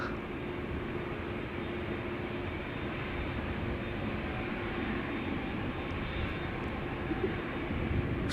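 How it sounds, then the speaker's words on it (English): An American Airlines Boeing 787 Dreamliner approaches at Amsterdam Schiphol Airport, a steady broad jet rumble that grows slightly louder over several seconds, sustained and without voices. "We're starting to hear American Airlines Flight 203 coming closer by. The Dreamliner, first of the pack, destined to go to Philadelphia."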